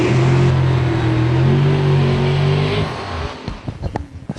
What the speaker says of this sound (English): Chevy versus Ford. Outlaw Drag Radial.